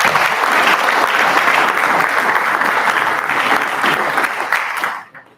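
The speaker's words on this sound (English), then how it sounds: "having all of you give applause to George Cole, to Joan Davis, and to Dennis Helton" An indoor audience gives sustained applause for board members at a directors' candidate event, a dense continuous clapping that fades out near the end.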